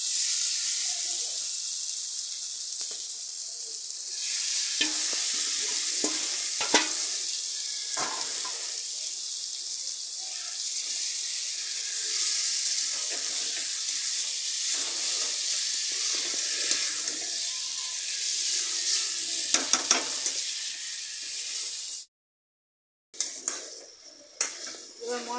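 Mutton going into frying spice paste for a mutton curry, a bright sustained sizzle with intermittent scraping and stirring clatter, loud and close, broken by a brief silence near the end.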